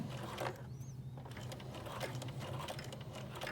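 A sewing machine runs slowly, stitching a seam sample along a 5/8-inch guideline, a quiet, steady mechanical whirring with a soft rhythmic clicking throughout and no talking.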